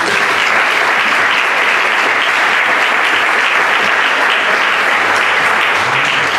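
An audience at a theatre group's tenth-anniversary event applauds in a dense, steady ovation that fills the whole stretch without pause.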